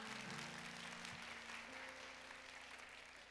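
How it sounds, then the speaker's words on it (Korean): Church youth worship congregation claps in a dense, continuous burst of applause, fairly faint and even throughout, with a low sustained musical tone or hum underneath. "박수 한번 쳐주시면 다시 한번 해보겠습니다."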